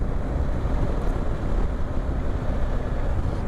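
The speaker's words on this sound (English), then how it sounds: "There's a fair breeze blowing up here." Steady, heavy wind roars and buffets across the microphone of a BMW R 1250 GS Adventure riding through the Forest of Bowland, a dense low rumble filling the whole stretch without letup.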